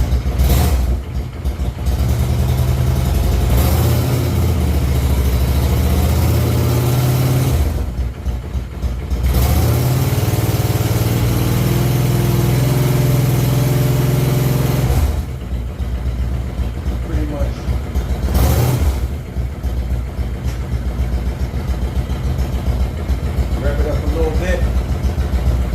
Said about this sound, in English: as you start up the bike,